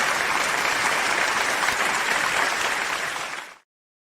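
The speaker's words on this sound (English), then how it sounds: "That's the masses there clapping for Ted's arrival back." A crowd clapping to welcome a football podcast host back, a dense, even roar of applause that holds steady and then cuts off abruptly near the end.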